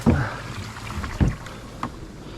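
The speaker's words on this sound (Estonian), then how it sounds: "Ma teen paadi veest puhtaks," Water is scooped and tipped out of a small boat in three splashy dumps, close by and spaced a second or so apart, with light wind in the background.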